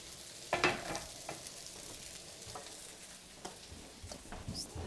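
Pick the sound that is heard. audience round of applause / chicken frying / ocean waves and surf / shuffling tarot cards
chicken frying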